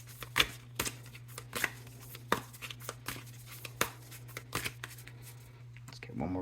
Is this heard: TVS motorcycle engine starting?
no